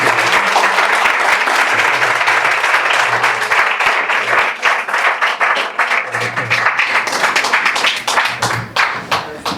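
An audience at a lecture gives a speaker a long, loud round of applause, many hands clapping in a thick continuous roar that ebbs and swells slightly throughout.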